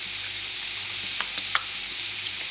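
Ground meat with soy sauce, onion and garlic sizzling in a pan for Filipino spaghetti, a steady close frying hiss with a few small clicks and stirring sounds.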